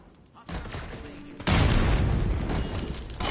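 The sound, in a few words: frag grenade explosion in the video game Call of Duty Black Ops 6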